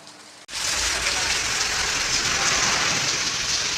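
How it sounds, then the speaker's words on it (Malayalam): After a short quiet lead-in, heavy rain suddenly roars in as a dense, even hiss that stays loud and constant throughout. "ഇവിടെ നല്ല മഴയൊക്കെയാണ്"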